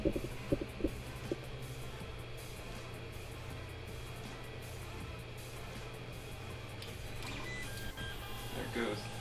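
A Creality 3D printer prints a custom GoPro mount with a quiet, steady motor hum and low throbbing. Faint mechanical whirs rise toward the end.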